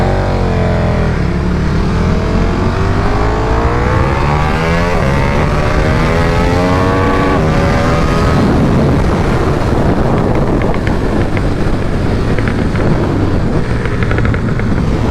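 Two motorcycles, a 2022 KTM Super Duke R and a flashed Aprilia RSV4, race hard with engines revving up through rising gears, loud and continuous under heavy wind rush throughout.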